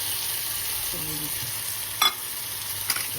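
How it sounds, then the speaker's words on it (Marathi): Tomato-chilli thecha fries in oil with tomatoes in a pan, a steady sizzle broken by a brief tonal scrape and two sharp clinks of a utensil. "तेल आहे ना आपण ठेचा टाकून द्यायचं"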